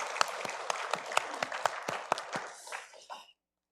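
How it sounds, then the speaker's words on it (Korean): A church congregation at a Sunday service breaks into rhythmic unison applause, steady claps about four per second, then the clapping thins into loose scattered claps before stopping abruptly. "영광의 박수 올리겠습니다."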